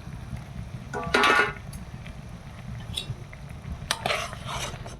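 Fritters sizzling in a pan for a sour fish curry, with low steady background rumble, a loud burst of stirring and clattering utensil sounds near the start and another later, close by.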